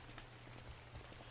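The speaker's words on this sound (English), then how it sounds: "Yeah, it just started to rain here too." Rain falls steadily in ARK: Survival Evolved, a soft, even hiss of drops pattering on surfaces. It is faint and continuous, with no voices.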